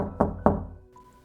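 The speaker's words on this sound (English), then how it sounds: "Upon knocking on the door, he was greeted by a man" Two sharp knocks on a door, close and distinct, spaced about a quarter second apart, followed by a faint fading ring.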